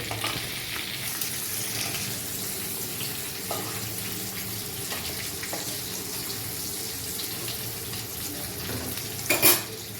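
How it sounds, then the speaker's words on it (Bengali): Chopped onion, ginger and chilli frying in a pan of prawn-flavoured oil, a steady close sizzle with occasional scrapes and clinks of a utensil, one sharper knock near the end, no talking. "এবার আমরা পেঁয়াজ কুচি, আদা কুচি আর লঙ্কা একসাথে ভেজে নেব।"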